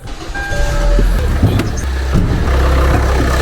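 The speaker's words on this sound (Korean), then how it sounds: "R엔진입니다" A Kia Sportage R with its R engine idles nearby, a steady low hum with a few faint clicks and knocks, and no voices.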